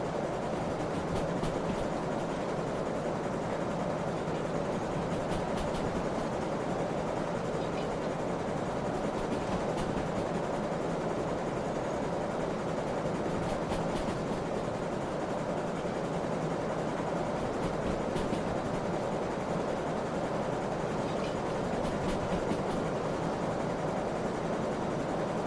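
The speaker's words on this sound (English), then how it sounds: "Just turn the train sound down a little bit." A steam train in the railway simulator Derail Valley runs steadily, a continuous rumbling roar with faint rhythmic clicks of wheels over rail joints, constant and loud throughout with no talking.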